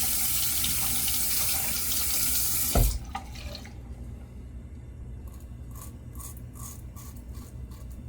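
A bathroom tap runs with a loud, steady rush while fingers are rinsed of shaving soap, then it is shut off after a knock, leaving faint drips and small handling clicks.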